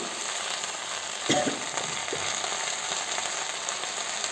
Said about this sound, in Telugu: ఈ నిదానంగా ఇలా కలుపుకుంటూ ఫ్రై చేసుకోవాలి